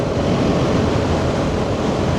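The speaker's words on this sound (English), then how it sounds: "My gosh, it is windy." Strong, steady coastal wind roars and buffets a microphone during a motorcycle rally in Japan, with continuous low rumbling noise, loud and close, with no pauses.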